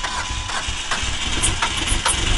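The engine of a Chrysler PT Cruiser turns over and runs, a loud, rough, close-up rumble with uneven pulses throughout the short stretch.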